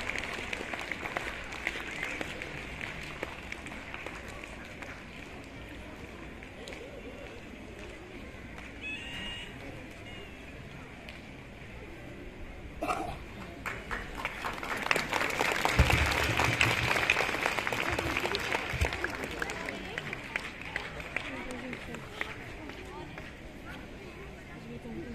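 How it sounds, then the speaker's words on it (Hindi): An audience applauds at a Himalayan Buddhist school's silver jubilee celebration in Manali. The clapping swells to a loud peak midway, then fades over crowd murmur, with people talking throughout. "सभी जोरदार तालियों से स्वागत करते हैं।"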